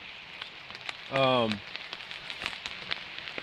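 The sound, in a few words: rain falling on hammock fly while backpacking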